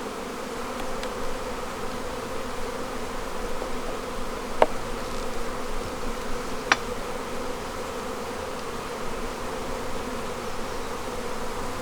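Steady, dense buzzing of many honeybees in a hive box drawing out comb fills the whole stretch, a continuous drone with a couple of brief sharp clicks partway through.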